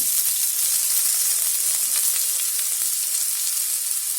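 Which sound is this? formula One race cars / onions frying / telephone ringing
onions frying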